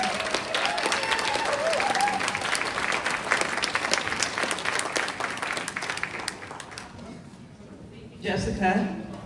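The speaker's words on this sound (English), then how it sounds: "Please, everybody give a round of applause for Robin Ullman." Audience applause at an event, a dense steady clapping from a room full of people that fades out near the end before a voice starts speaking.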